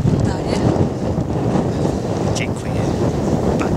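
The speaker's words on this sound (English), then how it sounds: "Very windy." Strong wind buffets the microphone on the Ivinghoe Beacon hilltop in the Chiltern Hills, a continuous rough, gusty rumble with a few faint voices in the background.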